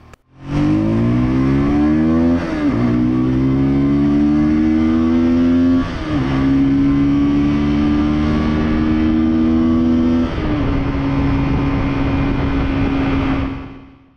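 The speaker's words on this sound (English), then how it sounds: "that was just a show how my bike sounds like now" A remapped Euro 5 125cc motorcycle engine revs loudly and close, rising in pitch in repeated pulls with brief dips between, then settling into a steady high drone.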